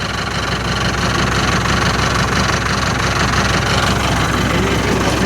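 A tractor engine idles steadily and loudly up close, a continuous low rumble with a faint mechanical rattle and no pauses or voices.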